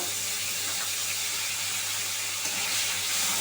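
Ginger and cumin paste sizzles in a hot pan, a steady bright hiss of frying that runs unbroken and moderately loud with no talk over it.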